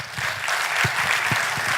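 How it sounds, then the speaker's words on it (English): Audience at an alumni meet applauds a departing speaker named Aditya, a short burst of clapping from a room crowd, fairly loud and close. "Yeah, loud applause for Aditya."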